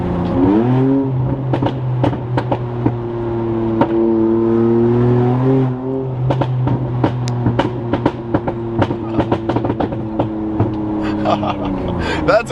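An Infiniti Q50 with an aftermarket downpipe exhaust drones as the engine revs and settles, with sharp pops and crackles scattered throughout, loud and close.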